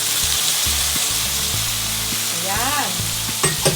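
Beef sisig is stirred as it fries in a pan. Loud, steady sizzling runs under rhythmic scraping strokes, and someone briefly speaks near the end.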